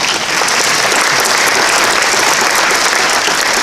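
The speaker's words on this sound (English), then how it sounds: "So let's clap for the soccer team." An audience at a Northwestern alumni reunion applauds the soccer team, producing a loud, dense, steady wash of many hands clapping at once with no voices on top.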